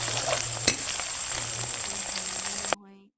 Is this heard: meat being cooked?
yes